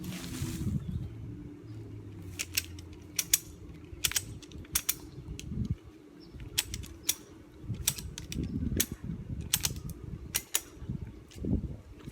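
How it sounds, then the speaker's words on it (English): A ratchet strap being cranked tight around a split pistachio tree, giving a run of sharp, separate clicks spread through the whole stretch over a steady low outdoor hum, with no voices. "let's see what the ratchet does"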